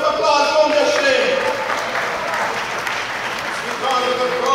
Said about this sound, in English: Give him a round of applause, don't be ashamed.